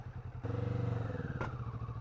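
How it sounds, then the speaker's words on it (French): Kawasaki Vulcan S motorcycle engine running steadily with a pulsing exhaust, a brief harsh scrape flaring near the middle as the exhaust pipe grinds against the ground, close and fairly loud. "À mon avis, c'est le pot d'échappement qu'a frotté par terre."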